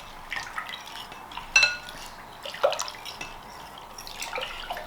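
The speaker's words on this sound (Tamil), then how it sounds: "ஹாட் வாட்டர் ஆட் பண்ணுங்க. நல்லா மிக்ஸ் பண்ணுங்க." Hot water poured and stirred into jelly mix for a jelly cake, heard as scattered soft drips and light clinks of a utensil against a container, fairly quiet with no talking.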